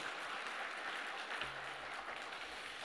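Faint, steady clapping from a church retreat audience thanking a lecturer, with a low hum underneath.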